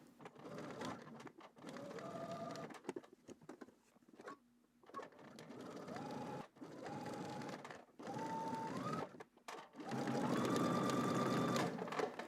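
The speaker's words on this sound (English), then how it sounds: "and then we're going to edge stitch" A sewing machine edge-stitches along twill tape in several motorized runs with brief pauses between them, the whirring stitching close and steady and growing louder and denser toward the end, with no talking.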